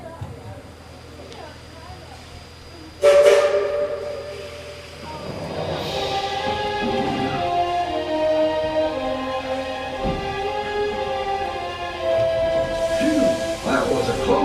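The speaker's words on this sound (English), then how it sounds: "our train is being pulled by a genuine coal-fired steam locomotive" A genuine coal-fired steam locomotive sounds a loud, long whistle that cuts in suddenly and holds with layered tones, while train noise rumbles beneath it and a voice speaks faintly.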